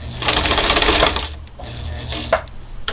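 A sewing machine runs a steady stitching burst while sewing fabric bowl fillers, then stops for a needle-down pivot before a brief second run, loud and close with no talk.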